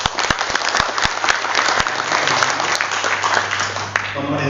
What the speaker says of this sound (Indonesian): Tepuk tangan buat RRI ya